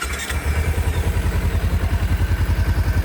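A Kawasaki Ninja 250 FVO with a stock exhaust idles nearby, its low engine putting out a steady, even, rapid thrum.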